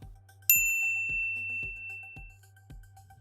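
A bright notification bell ding rings out once, clear and loud, and decays slowly over a soft rhythmic bass pulse from background music.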